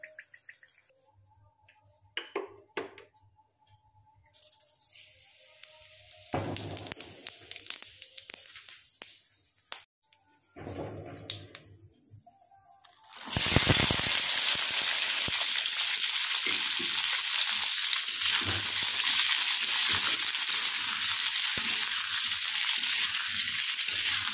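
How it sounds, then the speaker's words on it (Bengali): Boiled potatoes and peas hit hot oil tempered with cumin, with salt and turmeric; after sparse quiet clatter, a loud, steady, close sizzle bursts in about halfway and holds to the end. "সেদ্ধ করে রাখা আলু আর মটরশুঁটিটা দিয়ে দিলাম, নুন হলুদ দিয়ে এগুলো একটু ভালো করে ভেজে নেব"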